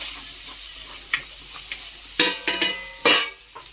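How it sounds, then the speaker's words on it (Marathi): Spices for a potato bhaji fry in a pan with a steady close sizzle, broken by several sharp scraping stirs and clatters of the spoon against the metal. "आता आपण बघूया मसाले छान फ्राय झाले"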